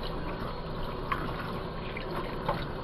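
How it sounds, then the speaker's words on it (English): Chicken pieces are rinsed under running water, a steady, close, hissing rush with a couple of faint knocks. "And then I rinse him out back again."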